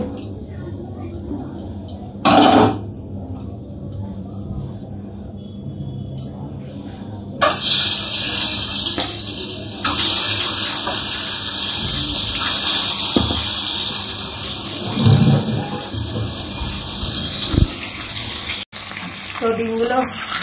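An egg frying in oil in a hot wok, seasoned with salt and turmeric, a steady hissing sizzle that swells in its second half with a few clatters and bumps from the pan.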